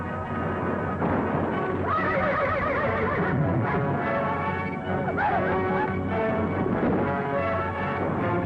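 Horses neigh and whinny repeatedly amid the commotion of a western wagon caravan at a river crossing, with dogs barking and hooves clattering in a dense, continuous background.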